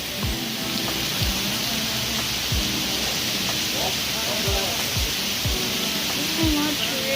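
Heavy rain mixed with small ice pellets falling in Riyadh, a dense continuous hiss with scattered sharp pattering hits, loud and close throughout.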